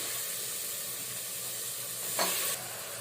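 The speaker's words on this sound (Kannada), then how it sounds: "ಸೊ ಈಗ ಆಯಿಲ್ ಫ್ರೈ ಮಾಡ್ಕೊಳ್ಳೋಣ ಚಿಕನ್." Chicken pieces frying in a little oil for chicken curry, a soft, even sizzle held steady, swelling briefly into a louder hissing burst near the end, with no one speaking.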